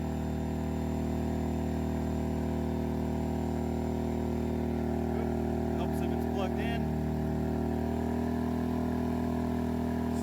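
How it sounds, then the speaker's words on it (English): A 3200-watt dual fuel inverter generator running on a 50 lb propane tank under heavy load from heat guns, holding a steady, loud engine drone throughout, with a few brief faint clicks and chirps partway through. "Generator sounds good."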